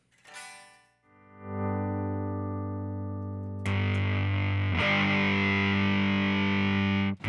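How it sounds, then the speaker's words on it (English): Fuzz pedal run through a tremolo pedal on electric guitar: a brief plucked note, then a sustained distorted chord whose grit and intensity shift, with a louder, brighter re-strike partway through, ringing steadily to the end. "you actually get the same volume coming out of the fuzz pedal, but you get varying degrees of distortion"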